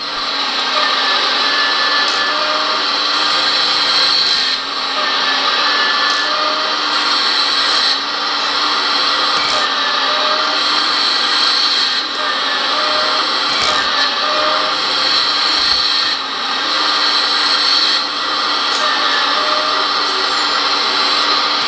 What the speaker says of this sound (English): And then the sound for the hydraulics.